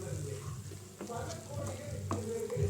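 Veg Maggi noodles simmering in a covered pan on the stove, a steady soft sizzle and bubble with a few faint clinks, continuous and close.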